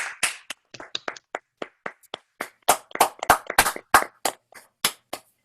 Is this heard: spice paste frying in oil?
no